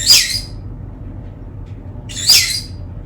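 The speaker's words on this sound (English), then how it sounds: "Birdies!" Pet birds squawk indoors in two sharp, shrill bursts about two seconds apart, with a quiet pause between them.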